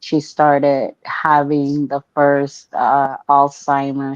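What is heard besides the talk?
No everyday noise stands out behind the speech.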